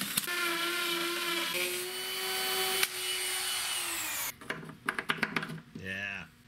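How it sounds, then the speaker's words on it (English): A big drill cuts a hole in a diesel jet boat hull, a steady high-pitched motor whine running for about four seconds before stopping, followed by short bursts of clattering and voices nearby. "I'm cutting a hole in your boat. Oh my God, with a big drill"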